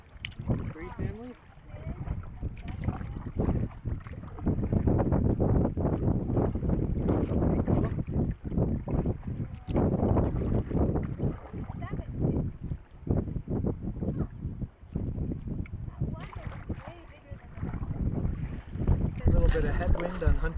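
Headwind buffeting the microphone while paddling a canoe on Hunter's Bay in Algonquin, a continuous rough gusting roar with brief dips, and faint voices at times.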